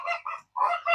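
A chicken squawks loudly and harshly in several close bursts, with a short pause in the middle, as it is pulled out by hand at a small home-based farm.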